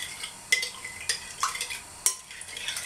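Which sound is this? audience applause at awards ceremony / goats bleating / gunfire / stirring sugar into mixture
stirring sugar into mixture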